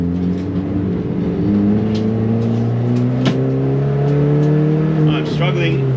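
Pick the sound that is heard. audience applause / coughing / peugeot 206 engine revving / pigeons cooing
peugeot 206 engine revving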